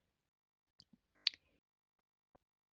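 Enter key pressed on a computer keyboard, a few sparse quiet clicks with one sharper keystroke in near silence.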